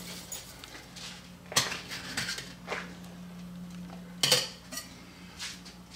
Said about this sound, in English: Second shake is really gonna help us froth that egg white up